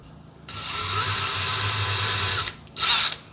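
A power drill drives screws to mount a box for a glue storage rack, with a loud steady whir lasting about two seconds, then a pause and a short second burst, close up with no speech.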